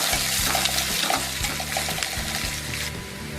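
Half an onion sautéing in a hot pan, a steady loud sizzle and crackle with faint stirring throughout, no talk over it.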